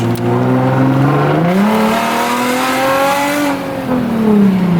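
A car accelerating hard on a test drive, engine revving in a rising drone that climbs, dips briefly, and climbs again, loud and close from inside the car with no talking.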